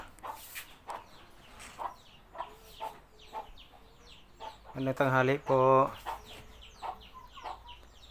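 Pet chickens cluck around a person speaking as they are fed, with a louder, drawn-out bird call rising briefly near the middle.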